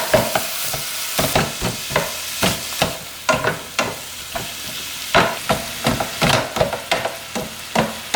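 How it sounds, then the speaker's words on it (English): Hamburger meat seasoned with salt and pepper browns in a pan, a close, loud sizzle punctuated by regular scraping strokes of a spoon stirring it around. "I'm just gonna mix this all up until it's all browned"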